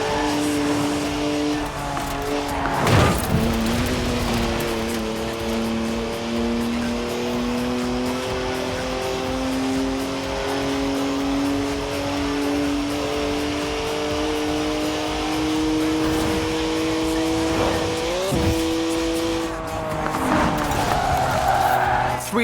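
Racing game car, a three-litre twin-turbo straight-six with 335 horsepower in Forza Horizon 4, drones loudly and steadily, its pitch rising through gears with brief shifts and occasional tire squeal as it slides sideways.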